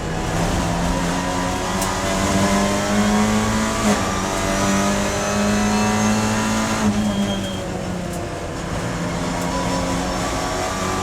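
Touring cars race at Brands Hatch in TCR UK under safety car conditions, with a steady loud engine drone that rises and falls as the cars pass, continuous for the whole stretch and no talking.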